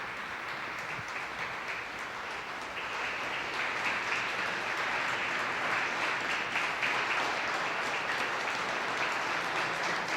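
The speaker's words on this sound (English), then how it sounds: "Kevin Vickers, let's listen to the applause he's getting now" Sustained applause from a large crowd in the Parliament of Canada, a dense wash of clapping that swells slightly after a few seconds and continues without pause.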